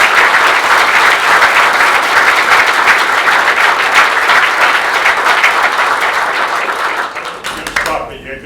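An audience at a township council meeting applauds, dense loud clapping held steady for several seconds before tapering off abruptly at the end.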